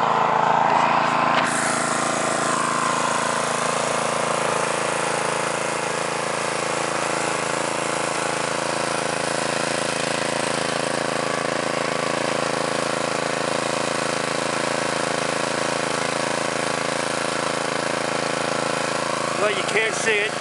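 A Predator 212 cc Honda-clone small engine runs steadily for the whole stretch, a loud, continuous buzzing drone close by with no pauses.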